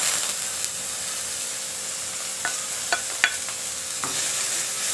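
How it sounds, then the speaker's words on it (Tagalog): Ginger frying in a little cooking oil in a pan for chicken with coconut milk: a faint, steady sizzle with a few light scrapes and taps of stirring, no voices. "Sotet-sotet lang natin yung luya."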